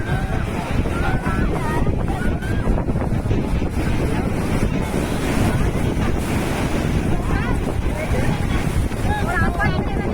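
Strong sea waves crash continuously on a beach on a rainy morning, a dense, loud roar of surf with wind buffeting the microphone throughout and no pauses.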